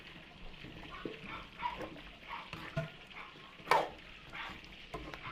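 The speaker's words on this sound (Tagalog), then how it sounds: "Tapos haluin din po natin." A spoon stirring paluto stew of potatoes, carrots and liver spread in a pot, giving faint, intermittent scraping and soft clinks over a quiet background, with one brief sharper knock near the end.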